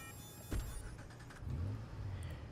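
A car in the Watch Dogs video game: a door-like thump, then the engine rumbles low and revs up briefly, fairly quiet with no talking.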